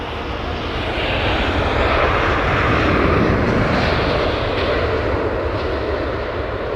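A British Airways airliner landing with its engines running, heard as a loud, broad, continuous jet roar that swells slightly in the middle and holds steady throughout, with no voices.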